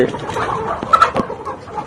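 Layer hens on a poultry farm cluck in short, uneven bursts, with a couple of sharper calls near the middle, over a busy background of other birds.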